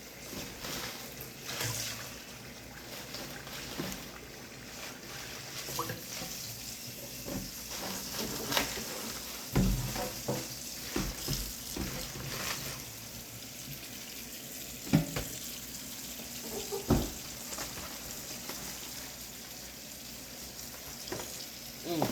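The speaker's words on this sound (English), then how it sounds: "So running cold water over them helps that process." Cold tap water runs steadily over freshly harvested kale from a small container garden in a sink, a continuous quiet splashing with occasional clatters and handling noises.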